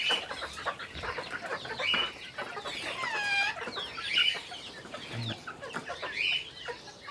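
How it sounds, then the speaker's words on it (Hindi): Young chicken chicks, hatched in an incubator, clucking and peeping during rain in a backyard bird enclosure; bursts of chirps and clucks repeat close by over steady background noise, with no talking. "और ये मुर्गी के चूजे।"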